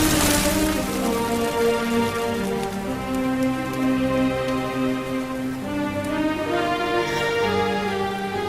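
Steady rain falls in the video game Dragon Quest XI, a dense, even patter that continues throughout beneath soft background music, with no speech.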